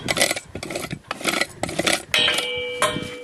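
A farrier's rasp is drawn in repeated strokes across the toe of a horse's hoof to bevel the edge. The scraping is close and loud, with rhythmic rough strokes followed by a lighter, smoother rub and a faint ringing tone.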